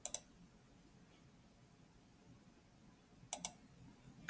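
Crisp computer mouse clicks, one quick double click at the start and another pair near the end, close and distinct against a near-silent room.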